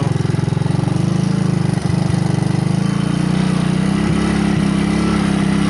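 A 1985 Honda ATC 200S three-wheeler engine running steadily during a ride, a loud, close, continuous buzzing drone at moderate throttle with slight shifts in pitch and no talking.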